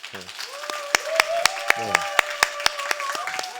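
A church congregation claps in a steady rhythm of sharp, evenly spaced claps, heard close and moderately loud, while someone speaks over them.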